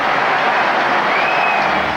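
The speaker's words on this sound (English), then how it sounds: "The roar from the crowd was also deafening." A large cricket crowd roars and applauds as Steve Waugh enters the ground for his final Test, a loud, dense, continuous wash of cheering and clapping throughout.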